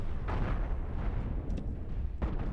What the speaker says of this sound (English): So even though I took out one cannon, not all the cannons blew up.